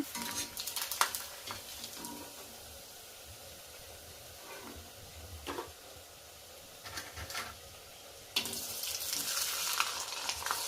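Vadiyalu, crisps made from Bombay rava and sago, fry in hot oil with a soft, steady sizzle, swelling into louder bursts of bubbling hiss as more are stirred or dropped in.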